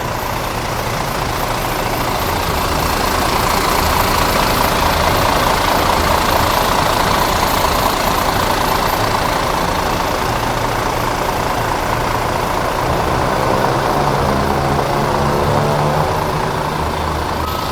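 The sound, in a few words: bus engine idling with engine hood open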